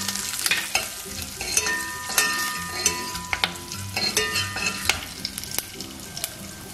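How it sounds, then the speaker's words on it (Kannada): Green chillies, curry leaves, fenugreek seeds, urad dal and hing frying in oil for a radish sambar tempering, a continuous close sizzle broken by sharp spoon scrapes and clinks against the pan. "ಮೆಣಸಿನ್ಕಾಯಿ, ಕರಿಬೇವು, ಮೆಂತೆ, ಉದ್ದಿನ ಬೇಳೆ, ಹಿಂಗು ಎಲ್ಲಾನು ಹಾಕೊಂಡು ಸ್ವಲ್ಪ"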